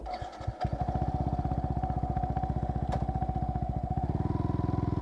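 Yamaha R15 motorcycle with an electronic throttle and up/down quick shifter being ridden, its single engine revving loudly and steadily close by with a rapid pulsing exhaust note that rises toward the end.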